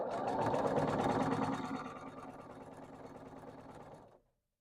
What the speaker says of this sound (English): Now I am actually sewing this on the straight of grain, so it should theoretically keep its shape.